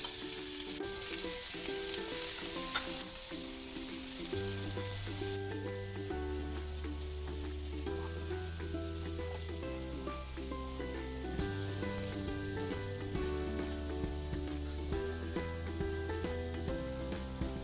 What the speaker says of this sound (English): we're going to saute the garlic until it's golden brown